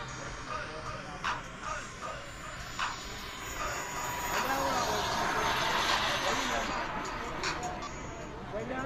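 An L-39 Albatross jet at an air show rally gives a broad roaring whine that swells and fades, mixed with crowd noise and nearby talking.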